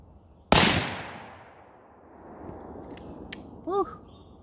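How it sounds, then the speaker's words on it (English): A Lipsey's BFR revolver chambered in .500 Magnum fires a single very loud shot outdoors, and the blast rings out in a long decaying echo. A few faint clicks and brief mechanical sounds follow afterward. "Let's just fire a group."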